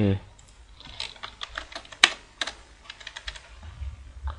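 Typing code on a computer keyboard: a rapid, uneven run of close key clicks with one sharper clack near the middle, heard under someone talking.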